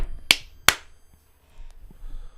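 Two sharp, close hand claps land about half a second apart, each a crisp isolated smack, followed by near silence with faint room noise.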